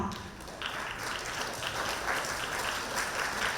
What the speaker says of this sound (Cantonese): 我哋一齊俾掌聲佢